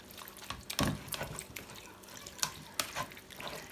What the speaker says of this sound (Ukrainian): І отак через сито перетираємо помідорчики.